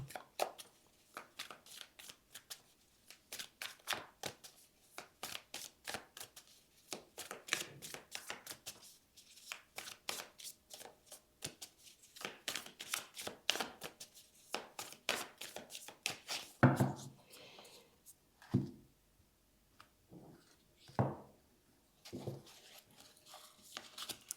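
Tarot cards are shuffled in a long run of rapid, crisp riffling taps close up, with short pauses and a few louder handling knocks near the end, no talking.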